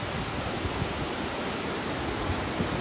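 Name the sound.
waterfall in fog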